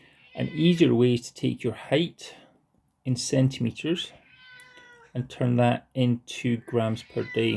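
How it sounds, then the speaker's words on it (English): A cat meows in the background, a few short high-pitched calls tucked between and under a person speaking steadily nearby. "that's my cat in the background being annoying"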